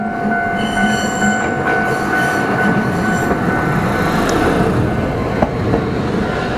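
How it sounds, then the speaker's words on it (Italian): An old classic tram on Tokyo's Toei Arakawa Line rolls along, a loud steady rumble of wheels on rail with faint squeals and a sharp click near the end, no voices. "questo è uno dei tram più vecchi, l'unico ancora che gira tram classico di Tokyo"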